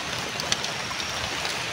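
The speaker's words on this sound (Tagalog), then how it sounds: "Lakas ng ulan." Heavy rain pours steadily during a motorbike ride in bad weather, a dense, even hiss with no break and only a few faint drops standing out.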